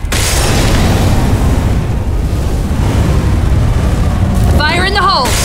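Deep booming grenade explosion in Left 4 Dead 2, a loud sustained rumble filling the scene, with a character shouting briefly near the end.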